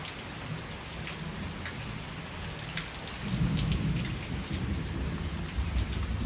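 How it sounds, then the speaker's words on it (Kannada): Heavy rain pours steadily with rumbling thunder, a constant hiss of drops on surfaces that swells as a low thunder roll builds partway through. "ಫುಲ್ಲು ಮಳೆ ಬರ್ತಾ ಇದೆ."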